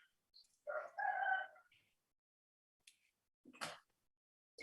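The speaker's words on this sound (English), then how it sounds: "hear a rooster in the background there" A rooster crows faintly in the distance behind an online discussion, a couple of short strained calls separated by silence, with a few other soft bird or fowl noises scattered around.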